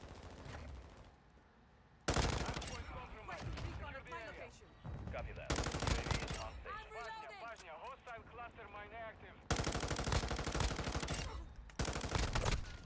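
Automatic rifle fire from the M13C in Modern Warfare 2 crackles in repeated loud bursts between pauses, with a person talking over the shooting in game.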